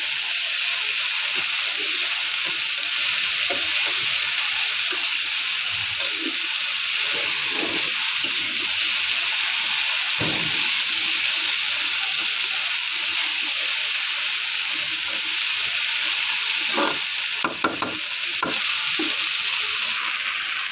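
Okra frying in a pan, a constant loud hiss and sizzle with intermittent spatula scrapes and knocks as the pieces are stirred, no voices.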